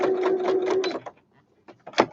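Sewing machine with a zip foot stitching a zip on a toiletry bag, a steady fast whirring run for about a second, then near-quiet and a couple of short stitch bursts.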